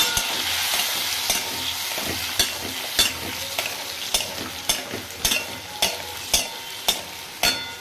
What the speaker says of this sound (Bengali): এই পেস্টটাকে দিয়ে মাছের আলুটাকে কষিয়ে নিচ্ছি